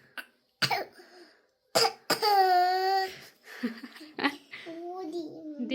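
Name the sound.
child doing a fake cough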